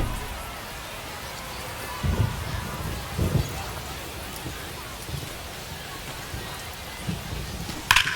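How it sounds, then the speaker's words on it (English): Steady rain hisses down on a ballpark in the MLB The Show 25 baseball video game, a constant wash with a few louder thumps and crowd bursts rising through it, heard under the game's play-by-play commentary. "the rain's still a factor here"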